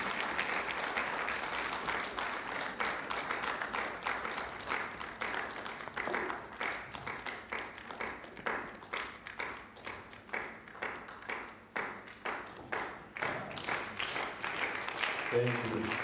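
An audience at an innovation and local economic development showcase claps for a university vice-chancellor and principal, steady moderate applause that slowly thins toward the end, with murmured voices underneath.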